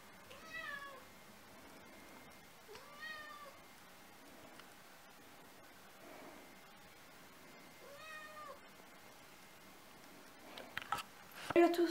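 A domestic cat meows several times at intervals in a quiet room, each meow a clear rising-falling cry; a few soft clatters follow near the end.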